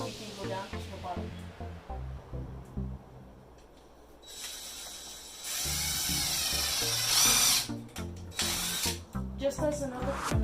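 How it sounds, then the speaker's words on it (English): A power drill bores a hole through a door during installation, whirring steadily and rising in a loud, high-pitched run near the middle, with someone talking before and after it. "I'm going to line it up, go towards the center, drill a hole"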